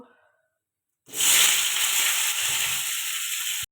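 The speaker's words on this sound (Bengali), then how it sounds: "এবারে আলুটা ভেজে নেব" Boiled, salted potatoes drop into hot oil in a pan and fry, a sudden loud sizzle that bursts on and holds as a steady bright hiss for a couple of seconds before cutting off.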